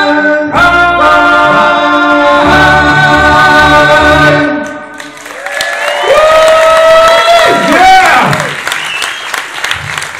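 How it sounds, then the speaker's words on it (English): Crowd at a live country-style ranch show applauds and cheers loudly, the clapping and shouts following a band's music and continuing strongly through the clip, with a voice heard over the noise. "What a crowd here tonight."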